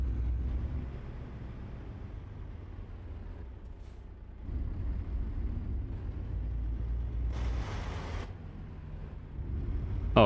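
Big truck's engine idling with a steady low rumble throughout, with a short hiss of air brakes partway through.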